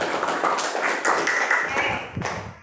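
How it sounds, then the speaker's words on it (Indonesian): Students in a classroom clap their hands together in a short burst of close, brisk applause that tapers off after a couple of seconds. "tepuk tangan"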